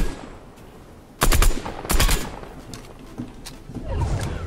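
Automatic weapon fire in a video game, heard as several loud rapid bursts. Two sharp volleys come close together near the start, followed by scattered quieter shots and a rising rattle toward the end.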